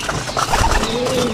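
Female pigeons cooing softly while they feed outdoors, several low murmuring coos overlapping in a steady, close flutter of calls with no talking.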